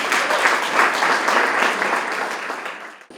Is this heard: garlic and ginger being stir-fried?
no